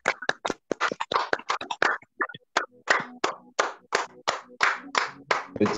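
Church congregation applauding in rhythmic bursts of clapping, steady and close, repeating in short waves with brief pauses, no talking over it.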